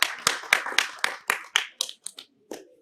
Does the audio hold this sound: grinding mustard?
no